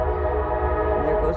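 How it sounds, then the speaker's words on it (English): A train rolls past behind a house after a hailstorm, a steady rumbling drone with a sustained horn-like tone, close and continuous throughout. "And there goes a train."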